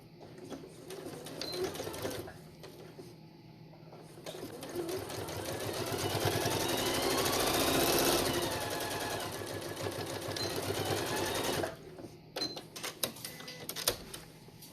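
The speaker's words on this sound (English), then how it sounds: "And then we're just going to go ahead and sew the rest of that down." A sewing machine stitching down quilt binding, a close continuous mechanical whir and rapid needle chatter that builds and holds steady before stopping, followed by a few clicks and handling noises.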